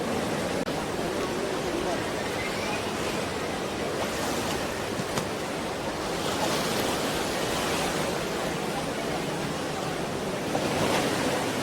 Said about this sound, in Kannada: ನೋಡಿದು ಈ ಕಡೆಯಿಂದ ಕಾವೇರಿ ನೀರು ಈಗ ಬರ್ತಾ ಇದೆ.